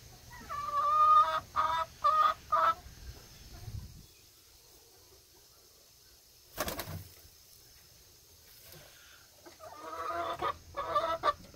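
A hen clucks and honks in short, close bursts, then goes quiet for a few seconds before a sharp rustle and another run of clucking.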